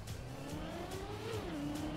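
Car tires screech in the racing game Trackmania, a steady engine drone with a rising and falling squeal that runs continuously and loud for the whole moment, with no talking.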